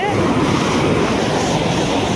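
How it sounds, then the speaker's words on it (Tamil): Forceful water gushes and churns at the Thirumoorthy Dam waterfall, a loud, steady roar of broadband rushing noise with wind buffeting the microphone throughout. "இப்போ ரொம்ப ஃபோர்ஸாக இருக்குது தண்ணி தண்ணி என்னமோ பொங்குது"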